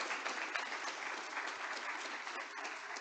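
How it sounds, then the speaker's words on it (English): Applause from the audience of a history lunch lecture on tax justice, a steady, fairly quiet wash of many hands clapping that holds evenly for about three seconds with no voices over it. "let's give Andrew another round of applause"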